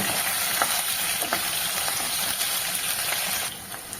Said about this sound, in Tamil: இப்போ ஒரு 20 சின்ன வெங்காயத்தை கட் பண்ணி வச்சுருக்கேங்க, அதை அப்படியே சேர்த்துக்கோங்க. சேர்த்துட்டு நல்லா வதக்கிக்கோங்க.